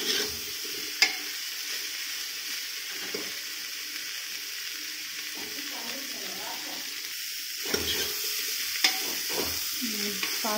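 Potatoes and beans fry in a pan with a continuous close sizzle, overlaid by repeated scraping stirs and a few metallic clinks, louder toward the end.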